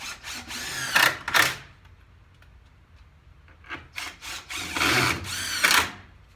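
A power drill drives screws into a window frame in several short, loud bursts at close range. Quieter pauses between the bursts carry faint rubbing and handling noises.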